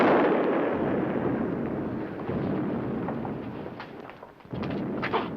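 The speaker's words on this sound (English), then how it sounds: "Hear that, Dad? It's thunder." Deep rolling thunder, a loud rumble that swells at once, fades slowly over several seconds, then gives a second softer crack near the end.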